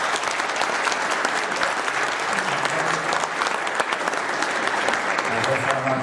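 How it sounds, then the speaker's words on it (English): An audience gives sustained, dense applause for a WWII B-24 tailgunner veteran, many hands clapping evenly at full strength, with faint murmuring voices beneath. "So, please give a round of applause for Frank Lashinsky."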